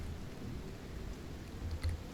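Steady rain with low rumbling thunder in the survival video game Icarus, a continuous even wash of downpour with a slightly heavier swell of rumble near the end.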